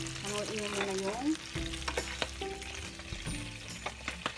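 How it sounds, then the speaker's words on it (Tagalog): Garlic sautés in a pan for pork bistek, a steady close sizzle with stirring clatter and scraping on top. "nagigisa na tayo ng bawang"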